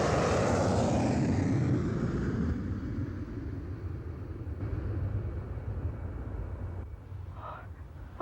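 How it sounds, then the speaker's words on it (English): A fixed-wing airplane drones overhead, a broad steady roar that starts loud and slowly fades as it passes, with a brief voice near the end. "It's not a bird, it's an airplane"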